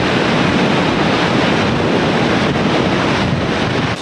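Strong wind buffets the microphone at Gullfoss waterfall in Iceland, a loud continuous roar mixed with rushing water and spray, steady throughout with no talking.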